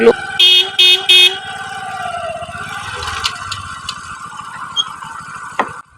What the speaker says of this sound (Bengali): তারপর বাবা বাইকটা ধরে অন করে সিগন্যাল দিতে লাগলো।